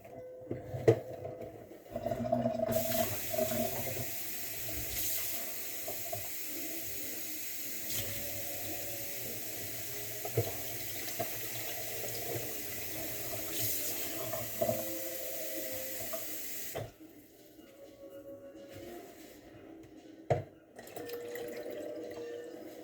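Tap water runs steadily into a sink during a rinse in a home kitchen, a quiet continuous splash and hiss that stops abruptly, followed by a few faint drips and clatters.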